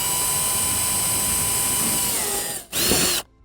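A power drill whines steadily while punching through foam board being fitted as greenhouse insulation, with a continuous high buzz that cuts out briefly, surges again, then stops.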